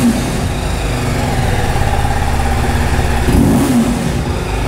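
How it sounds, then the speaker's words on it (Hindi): A TVS Apache RTR 310 motorcycle on its stock exhaust holds a loud, steady engine note, deepening into a short rev swell near the end, with no talk. "एग्जॉस्ट नोट बहुत तगड़ा है इसके स्टॉक में, नो डाउट।"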